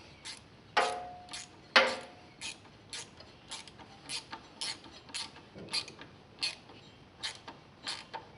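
Ratcheting and creaking clicks from tightening a hose clamp on an Oliver 1850 tractor's radiator hose: two louder pops near the start, then a steady run of about a dozen short evenly spaced ratchet ticks, close by with no talk.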